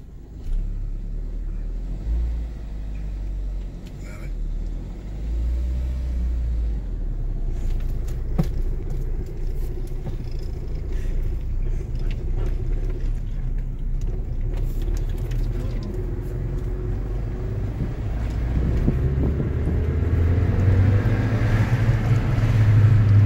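A manual-transmission Volkswagen GTI engine idling and then pulling away in first gear, a steady low rumble that rises as the revs climb, with brief voices in the car.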